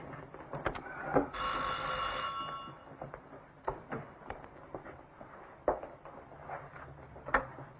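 A telephone rings in a quiet domestic room, one clear bell burst of about two seconds that rises above faint background rustles and soft knocks.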